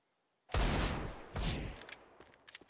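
Rapid pistol gunfire from the video game CS:GO during a pistol round, a loud close burst of shots followed by a second burst and scattered fainter pops trailing off.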